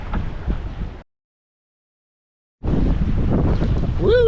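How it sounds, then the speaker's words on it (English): Strong wind of over 20 knots roaring across the microphone aboard a sailboat at sea off Florida, loud and buffeting, broken by a second of silence before the gusting resumes with a faint whistling tone. "it's blowing out here. This is more than 20 knots."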